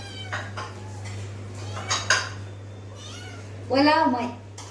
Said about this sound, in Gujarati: બિલાડી બચ્ચા ઘરમાં આવી ગયા